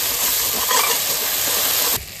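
Spice paste with a little turmeric is stirred into hot oil in a Bengali kitchen, giving a loud, continuous sizzling hiss up close that dips slightly near the end.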